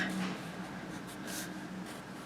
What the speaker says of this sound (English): we're going to just draw some little squiggly arrows going up our evaporation